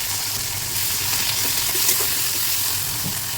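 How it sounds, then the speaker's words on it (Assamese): Tomatoes fry in a pan with turmeric, giving a continuous close sizzle and crackle, with faint stirring clicks and no voices. "বিলাহীখিনিও ধুনীয়াকৈ ভাজিব লাগিব, একদম গলি যোৱালৈকে ধুনীয়াকৈ ভাজিব লাগিব"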